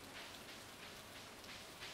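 Rain falls steadily in the video game Stardew Valley, a soft continuous hiss of drops with gentle swells, faint and unbroken, with no voices over it.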